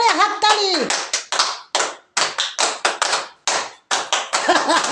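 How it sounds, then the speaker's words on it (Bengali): Several people clap loudly at a birthday celebration in uneven bursts of sharp hand claps, close and bright, with children's and adults' voices mixed in. "জোরে হাততালি।"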